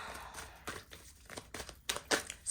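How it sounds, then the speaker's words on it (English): A deck of cards is handled and shuffled up close, giving soft, irregular riffling and crinkling bursts with brief pauses between, quiet and without talk. "let's go back to this deck and shuffle a little bit"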